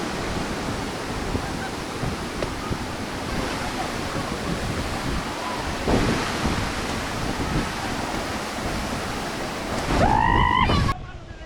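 Nalmo waterfall in Khaniyabas, Dhading, roars as a steady, dense broadband rush of falling water throughout, with a brief honking bird call near the end.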